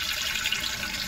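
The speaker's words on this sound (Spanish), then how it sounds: "vamos a mezclarle agua, o vamos a diluir el jabón en agua" Water pours from a tap to dilute green Palmolive dish soap for a homemade bedbug spray, a steady, soft hiss of running water throughout with no voices.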